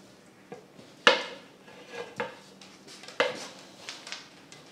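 A utensil scrapes the sides of a mixing bowl holding pizza crust dough, producing several close, sharp scraping and knocking strokes spaced about a second apart, with quieter rubbing between them.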